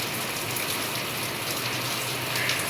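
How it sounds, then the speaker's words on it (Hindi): Rain falls steadily during an early-morning power cut at a home, a continuous broadband hiss of heavy rainfall that stays even and close for the whole stretch with no talk over it. "लेकिन बारिश को देखकर मज़ा ही आ गया।"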